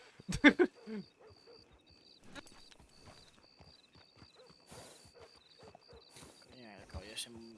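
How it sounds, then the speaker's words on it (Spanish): Horse hooves clip-clop in a roleplay video game, with a series of sharp, irregular hoof knocks. Voices speak over the hooves throughout. "El caballo se está loco."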